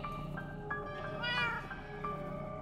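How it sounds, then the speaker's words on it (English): A cat in the video game Minecraft Story Mode meows repeatedly in drawn-out, whiny calls, fairly faint over a steady game background hum. "Bad kitty, stop it!"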